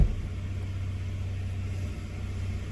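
A 1995 Buick Skylark engine idles while warming up after sitting undriven for a long time, giving a steady, low rumble close by with no voices.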